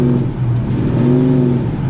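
Ford XW with a 351 Cleveland V8 on very light throttle, a steady low engine drone with a gentle rise in pitch as it picks up, continuous and fairly loud throughout, with no talking.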